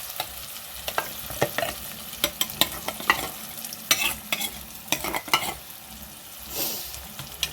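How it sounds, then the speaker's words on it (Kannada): Ground masala for a Mangalore-style bangude (mackerel) dish stirred in a hot pan, with a steady sizzle broken by frequent scraping strokes of a spoon, close and fairly loud, with no talking. "ಇತ್ತೆ ಮಸಾಲ ಪಾಡೋಡು."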